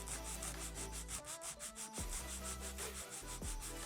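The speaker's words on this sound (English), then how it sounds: "Hold the finger securely. File straight out." A nail file is stroked straight out along an acrylic nail, producing quiet, rapid, evenly repeating scratchy rubbing strokes with no voices.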